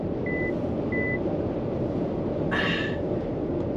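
Two short, thin electronic lane keeping assist warning beeps from an MG4 electric car sound in quick succession over the steady low rumble of driving, followed by a brief rattling noise.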